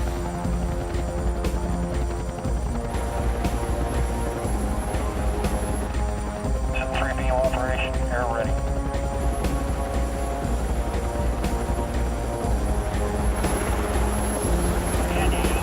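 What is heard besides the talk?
Sea King helicopter flying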